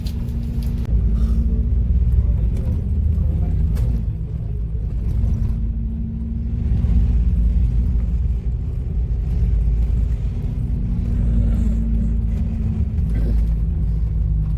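Steady low engine rumble inside a nearly empty city bus driving through Kuwait City on a quiet Saturday, a continuous drone with no talk.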